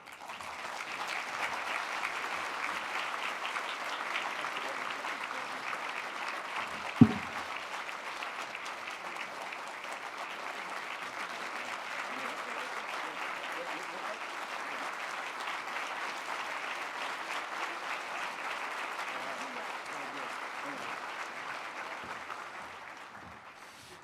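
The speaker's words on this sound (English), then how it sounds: "thank you very much for that applause" Sustained audience applause for an award recipient at a healthcare management awards presentation, a steady wash of clapping at moderate level for over twenty seconds with one sharp knock partway through, fading slightly at the end.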